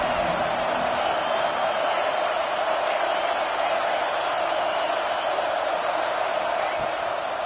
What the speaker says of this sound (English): This Auburn crowd trying to conjure up a little magic here on 3rd down.